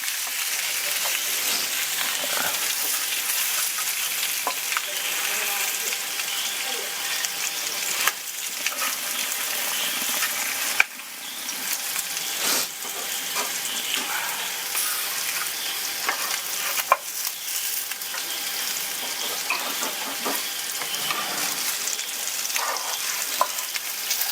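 Steady, loud sizzling of fish frying in hot oil, a dense crackling hiss that continues throughout with occasional sharper pops and stirring.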